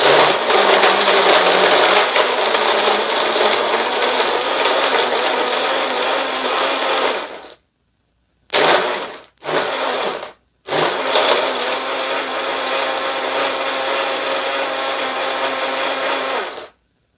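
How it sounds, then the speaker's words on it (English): A blender crushing ice grinds loudly with a harsh, rattling roar, cuts out briefly, pulses in two short bursts, then runs steadily again before stopping. "I'm going to blend, so it's going to get a little loud"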